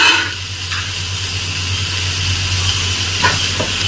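Onion, tomato and green chilli sauté for mutton biryani with a loud, steady hissing sizzle over a low hum, and a couple of brief scraping stirs near the end.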